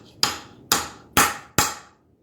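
A hammer strikes four times while a bench whetstone is being set into its wooden base, giving sharp, fairly loud knocks at an uneven pace, each one dying away quickly with no talk.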